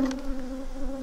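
Honey bees buzz inside a hive box fitted with a queen excluder and foundation, a steady, close, droning hum with no other sounds.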